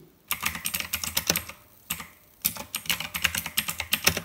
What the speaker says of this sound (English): In mechanical keyboards, there are different types of switches like blue which are present in this keyboard and they offer a clicky feel.